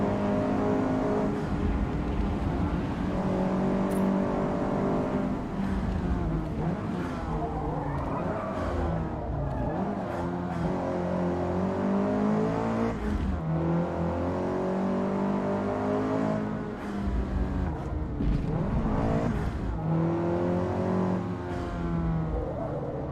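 Race cars in Forza Motorsport drone steadily, their engines revving and shifting pitch as they push on at high speed, with a loud, continuous whine filling the whole stretch while a voice talks over it at times.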